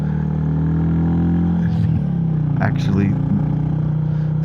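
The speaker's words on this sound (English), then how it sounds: "did not mean to downshift like that" Royal Enfield 350 motorcycle engine on a quiet evening backroad, its steady low drone swelling into a brief rev with a clattery shift as the bike downshifts unexpectedly; a rider's voice speaks briefly over the close engine.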